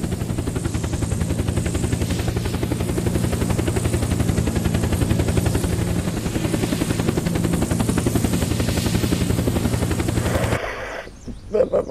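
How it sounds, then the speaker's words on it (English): A Chinook military helicopter in the video game Unturned thunders with rapid, steady rotor chopping and a loud engine drone, continuous for most of the stretch before cutting off abruptly near the end. "There's a helicopter, there's a helicopter."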